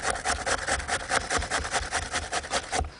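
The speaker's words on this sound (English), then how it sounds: "Get a cucumber and grate it. And on the coarse side of the grater." Cucumber grated on the coarse side of a grater for a Hungarian dish: fast, steady rasping strokes, about a dozen or more in quick rhythm, close and clear with no talking.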